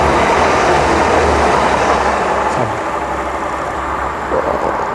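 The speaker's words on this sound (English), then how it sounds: "here comes a train in the opposite direction" A fast train rushes past in the opposite direction, a loud close roar of wind and rolling wheels that eases slightly toward the end.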